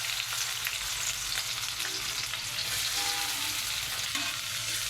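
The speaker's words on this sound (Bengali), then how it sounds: "তেল গরম হয়ে গিয়েছে, এখন আমরা পেঁয়াজগুলো দিয়ে দেব।" Onions frying in hot oil in a wok give a steady, dense sizzle that hisses evenly throughout with faint stirring scrapes and no voices.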